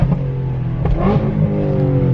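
A Ford Mustang GT350 on a dyno revs hard and loud, its engine note climbing and dropping in steady harmonic sweeps with a sharp burst of acceleration midway through.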